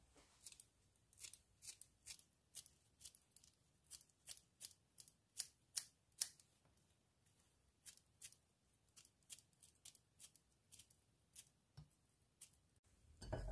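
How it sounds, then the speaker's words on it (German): Scissors snipping garden chives into a cucumber salad, a rapid series of crisp, close metallic snips in uneven bursts with brief pauses, no talking. "ich schneide ihn mal ganz gerne mit einer Schere"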